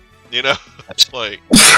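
A single sudden, loud sneeze bursts out close to the microphone at the end, right after a man's casual speech.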